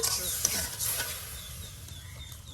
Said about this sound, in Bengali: এখন আপনার ভালো করে মশলাটাকে ভেজে নেওয়া হবে